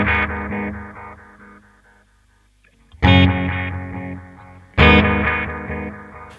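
Red Witch Titan delay pedal running two delays in parallel on an electric guitar: struck chords ring out and decay into repeating echoes, fading almost to silence before two further loud strummed chords with trailing delay repeats.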